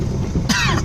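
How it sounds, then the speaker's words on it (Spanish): A single short, close cough from a person urged to cough, a sharp burst about halfway through the brief moment amid steady background noise. "Pero tose para ver, pues."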